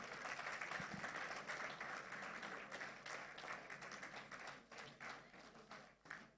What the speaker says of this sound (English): he deserves a big round of applause, please, sir.